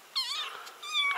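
A cat meows twice in quick succession, close and clear, with a rising then falling pitch.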